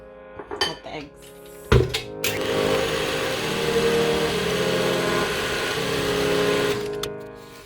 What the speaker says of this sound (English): So we're just whisking